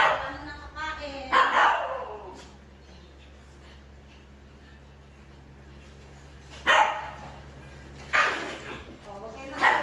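Several dogs bark and yip excitedly while waiting to be fed, loud bursts at the start and again near the end with a quieter gap between, mixed with someone talking.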